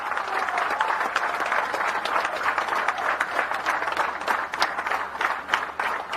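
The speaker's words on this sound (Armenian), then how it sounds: "բարձր ծափահարություններ" A crowd at an opposition political rally in Gyumri, Armenia, claps loudly and steadily, a thick continuous wash of applause throughout.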